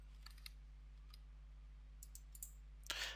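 Faint, sparse clicks of a computer mouse at a desk, a handful of light taps over a low steady electrical hum, with a slightly louder cluster at the end.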